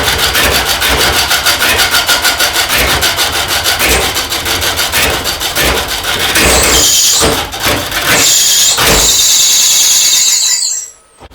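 A lathe spins a cedar burl bowl while a tool cuts it, giving a loud, close rhythmic rubbing and scraping. Sharp high squeals break in toward the end, then the sound cuts off suddenly.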